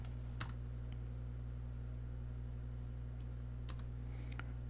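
Computer keyboard keys pressed in short clusters of clicks at a login prompt on an IBM Access Manager appliance, faint and close against a steady low electronic hum, with no voices.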